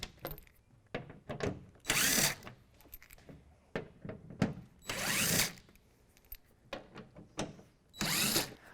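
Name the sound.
impact driver removing bed liner screws on a Toyota Tacoma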